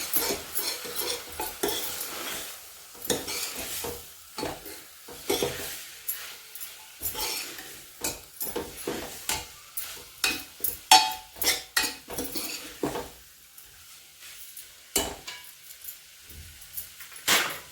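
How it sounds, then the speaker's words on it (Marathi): Gram flour stir-roasted in oil in a pan: repeated scraping and clinking of a spoon against the metal pan in an uneven rhythm over a faint sizzle, close, with no talking. "हे बेसन पीठ घालत आहोत हे सुद्धा आपण परतून घेत आहोत"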